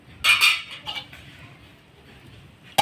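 A metal lid is set onto a cooking pot of mixed vegetable and dal fry, giving a bright clanking clatter near the start, a softer knock, then a final clink.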